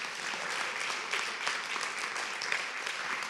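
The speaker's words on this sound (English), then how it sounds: "clap for them too, can we?" Moderate applause rises from an audience at a spring celebration speech, many hands clapping in a continuous, fairly distant wash with a few sharper claps standing out.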